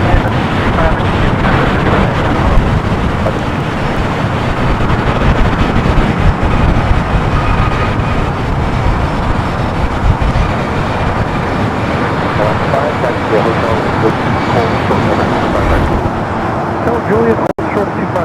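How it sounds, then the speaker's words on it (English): An Air Tahiti Nui Boeing 787-9 Dreamliner takes off at Los Angeles airport on a flight to Paris, producing a continuous, rumbling jet roar that eases slightly toward the end. "Now she goes Air Tahiti, Nui, the flight to Paris, and the 787-9 Dreamliner."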